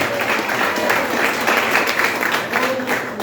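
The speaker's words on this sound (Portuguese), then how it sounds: "Quem pode aplaudir a Deus por essa mensagem?" A church congregation claps together, steady and fairly close, a continuous patter of many hands that holds at an even level throughout.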